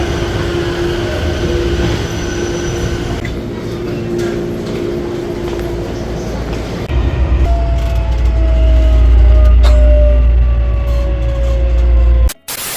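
A train rumbles and squeals into a station, its low roar swelling midway and building to a loud, close pass with a long wheel whine, then cutting off sharply at the end.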